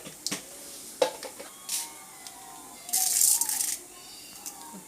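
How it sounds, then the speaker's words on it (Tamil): Mustard seeds splutter in hot coconut oil in a kadai while tempering cassava, with scattered sharp pops and crackles, then a dense burst of spitting and rattling before it thins out again. "இப்போ நம்ம கடுகு போட்டுக்கலாம்."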